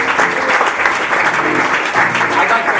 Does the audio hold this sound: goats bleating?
no